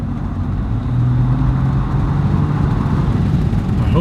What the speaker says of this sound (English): Oh yeah, you can hear the turbo.